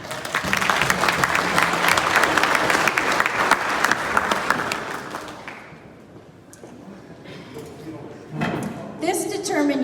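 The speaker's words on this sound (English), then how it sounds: "Give a round of applause to number 18C, Calvin Corny." Loud, close crowd applause at a modified-driver racing awards ceremony rolls for about five seconds, then thins out as a voice speaks over a murmuring room.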